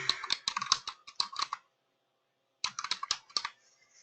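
A password being typed on a computer keyboard: two quick bursts of crisp key clicks, close and fairly quiet, separated by a pause of near silence.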